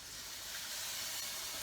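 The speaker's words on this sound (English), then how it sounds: "You can hear that sizzle because the pan is very, very hot." Rice and stock give a steady, continuous hiss, sizzling in a very hot paella pan, fairly close and unbroken, with no voices.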